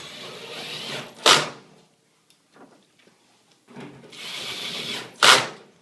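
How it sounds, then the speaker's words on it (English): Two bursts of a power drill driving screws into the rear of a Kenmore HE3t front-load washer's top panel, each run rising to a sharp peak, separated by a quiet gap with a few faint taps and clicks. "And then we can put the screws on in the back."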